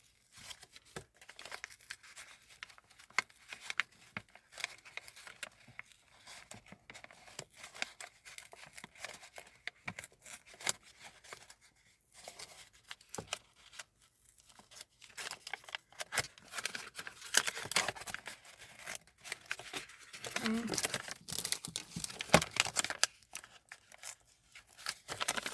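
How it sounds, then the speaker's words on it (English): A paper envelope being pulled apart and torn open, with soft crinkles, rips and rustles coming in irregular bursts, faint and close, growing busier toward the end. "you're going to have to open the envelope up, you know, just like completely take it apart"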